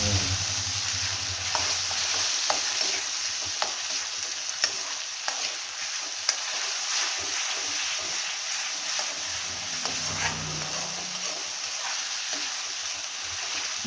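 Steady sizzling of onion, garlic and ginger paste frying in hot oil for a tadka, with occasional soft stirring clicks, fairly close and continuous throughout.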